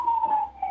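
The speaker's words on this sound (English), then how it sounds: "there's a fire truck on" A fire truck siren wails steadily at moderate distance, a sustained tone that dips briefly midway before resuming, heard alone without talk.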